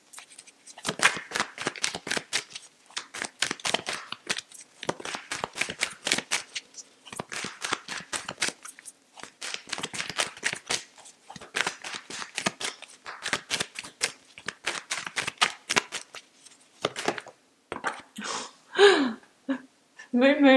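Tarot cards are shuffled by hand in quick, papery bursts of riffling and flicking, close and fairly quiet, repeating in short clusters with brief pauses between them.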